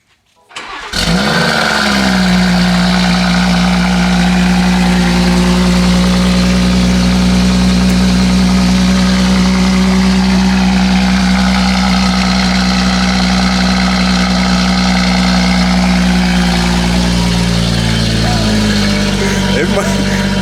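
A BMW 540i with a B58 engine and a catless downpipe fires up and runs loud and steady at a deep, droning idle for nearly twenty seconds, with a slight pitch drop toward the end.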